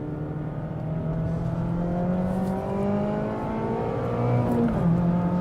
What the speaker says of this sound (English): Being able to rev a car out the red line.